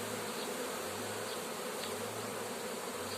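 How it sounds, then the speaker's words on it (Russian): A honeybee swarm hums steadily as it enters a hive, a dense, close, even buzz at low level with no speech. "И рой потихоньку заходит в улей."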